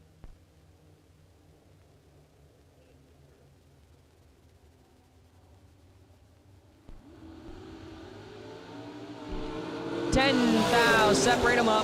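A dragster and door cars launch at a drag strip, a low engine rumble building after a sharp crack into a loud, rising roar near the end, with an announcer talking over the track noise.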